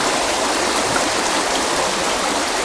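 Oakbeck, a small stream, runs steadily with a dense, even rush of water close by, unbroken throughout and with no voices.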